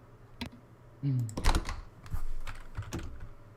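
Someone types on a computer keyboard during a voice chat, a quick irregular run of close, sharp key clicks with a few heavier strikes.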